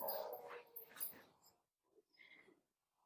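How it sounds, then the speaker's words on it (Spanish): A dog at home making short yips and whimpering barks, fairly close but quiet, in a few bursts followed by a pause and a softer yelp. "esta es como que una hora muy diabólica para los perros, porque muchos perros ladran"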